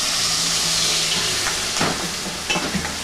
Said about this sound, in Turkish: Bir taraftan da biberlerimizi kızartacağız burada.